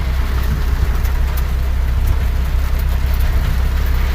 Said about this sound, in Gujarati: આવો વરસાદ પડે